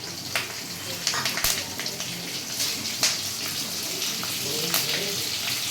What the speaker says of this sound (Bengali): এগুলো সবগুলো একসঙ্গে একটু ভেজে নেব।